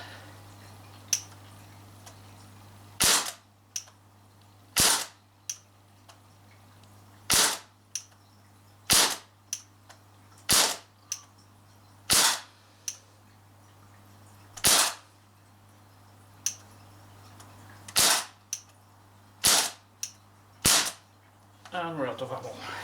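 A Crosman 1077 air rifle fires at a can: about a dozen sharp, loud cracks come at irregular intervals, spaced a second or more apart, against a faint steady hum.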